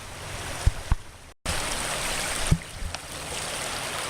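Dead Man Creek flowing north of Spokane off Highway 395, a steady rushing stream wash with a few sharp knocks and a brief dropout.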